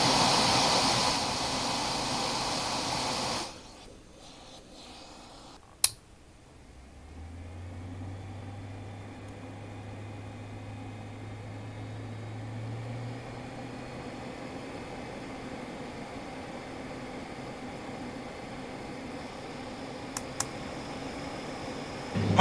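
A portable anti-fog unit's fan hums steadily after a noisy start, a low droning whir holding through most of the stretch, with a sharp click and a few faint taps along the way.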